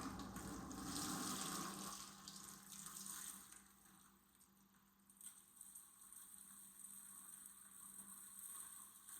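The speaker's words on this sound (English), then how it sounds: "we're gonna rinse it off here" Running water rinsing bleaching cream off a deer skull, a steady soft splash and hiss from a tap, louder at first then settling to a quiet continuous flow.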